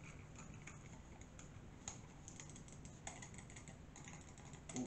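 Clicky buttons on a computer keyboard being pressed in irregular quick bursts, faint and close, with brief pauses between runs of keystrokes and no talking.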